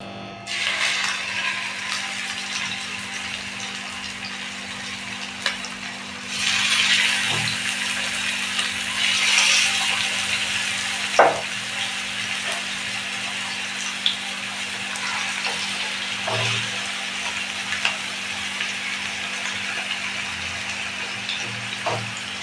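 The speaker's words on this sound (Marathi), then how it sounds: "पॅन मध्ये आपण 2 पळी तेल घालून घेतलेलं आहे। तेल थोडंसं हीट होऊ दे, मग आपण यामध्ये कोळंबी टाकूया।" Prawns fry in two ladles of hot oil in a pan, a continuous loud sizzle with occasional clinks and stirring, close and steady, with no talking.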